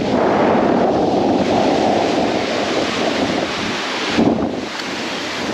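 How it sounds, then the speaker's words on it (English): Strong wind roaring across a mountain pass in Taiwan, a steady loud buffeting rush with a brief gust near the end and no talking. "Wow, it is so windy."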